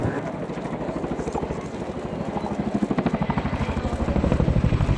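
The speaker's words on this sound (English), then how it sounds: "Next, the aircraft will conduct an over-the-shoulder departure." A helicopter's rotor thumps steadily and grows louder and more pronounced as it departs at an airshow carrying an underslung load, a heavy rhythmic beating close by.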